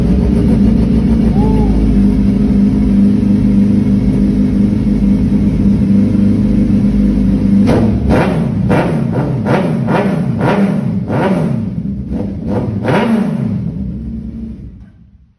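A 2017 superbike with a Brocks full exhaust system idles steadily, then barks through a series of loud, sharp rev blips close by before cutting off abruptly.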